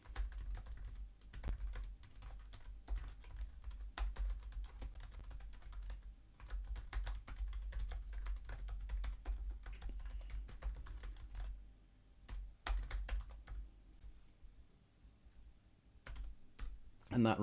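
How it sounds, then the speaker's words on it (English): Computer keyboard typing, a steady patter of soft close key clicks running in bursts with a brief pause, faint and intimate over a low background hum. "I can just start typing here."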